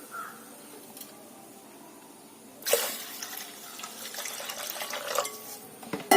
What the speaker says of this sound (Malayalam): ഇതോടൊപ്പം നമ്മൾ 1/2 ലിറ്റർ വെള്ളം കൂടെ ചേർത്ത് കൊടുക്കാം.